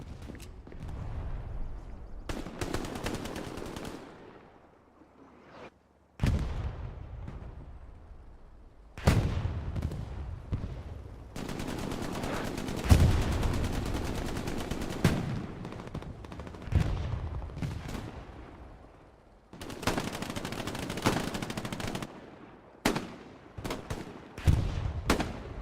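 Gunfire in the World War II shooter Hell Let Loose comes in repeated bursts of rifle and machine-gun shots, with loud cracks separated by short quiet gaps and occasional heavier booms.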